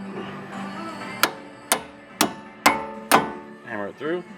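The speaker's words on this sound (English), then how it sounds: "Hammer it through." Five sharp metal hammer blows, spaced about half a second apart, drive a bolt through an axle housing in a garage, loud and close, with a radio playing faintly underneath.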